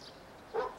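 A single brief dog bark sounds faintly from a distance, near the end of an otherwise quiet stretch.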